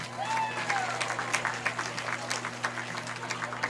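Crowd applause for seniors at a high school football senior night: scattered, moderately distant clapping from stadium stands, steady and fairly faint, with a steady hum underneath.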